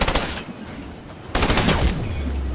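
An SMG fires in a video game: a short rapid burst, a brief pause, then a second louder burst trailing into a low rumble, close and loud with no talking.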